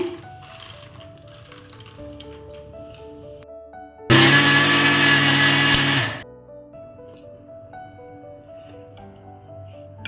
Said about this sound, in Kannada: ನೆಲಗಡಲೆ ಮತ್ತು ಬಾದಾಮ ಹಾಗೂ ಗೋಡಂಬಿ, ಅದೇ ರೀತಿ ಮಖಾನ ಹಾಕಿ ಪೌಡರ್ ಮಾಡ್ಕೊಳ್ತೇನೆ